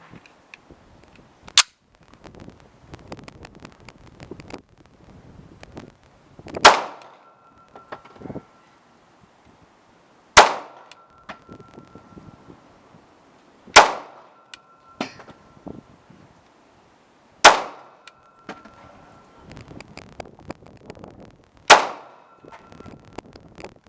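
A Sig P239 9mm pistol fires single shots at a target on a windy outdoor range, six sharp cracks spaced a few seconds apart, each with a short ringing decay over low wind rumble.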